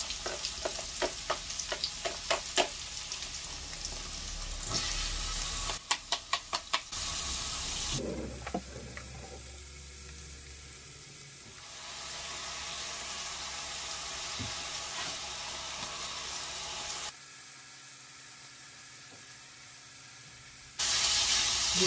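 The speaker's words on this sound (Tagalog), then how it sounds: "Igisa ang bawang. Ang sibuyas." Garlic and onion sautéing in a hot pan give a steady, close sizzle and hiss, broken by scraping and clattering stirs and a few louder bursts of frying, with no voices.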